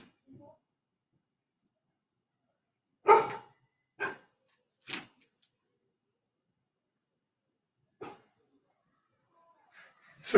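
A big dog lets out a few short, separate barks spaced a second or more apart, with a later bark and some breathy sounds near the end, and silence in between.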